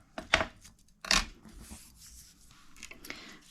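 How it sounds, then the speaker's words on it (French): A couple of sharp snips and rips of scissors cutting double-sided tape, with softer rustling and small handling noises between them. "Donc je coupe mon scotch double face et pas le ruban."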